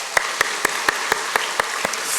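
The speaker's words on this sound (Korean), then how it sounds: "우리 감사의 마음을 담아서 우리 박수로 한번 영광 올려드리겠습니다." A church congregation claps in unison, giving a steady, even series of loud, sharp beats about four per second over a wash of continuous background noise.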